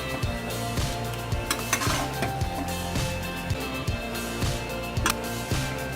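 Sun-dried raw mango pieces are stirred into hot spiced oil for a sweet-sour mango pickle, with a soft continuous sizzle under rhythmic scraping and clinking of a spoon against the pan.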